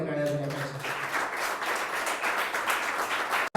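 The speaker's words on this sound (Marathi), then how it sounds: "या उत्साहासाठी जोरदार टाळ्या झाल्या पाहिजे" Audience applause at an award ceremony honoring an artist, a dense sustained wash of many hands clapping close and loud for several seconds, ending abruptly.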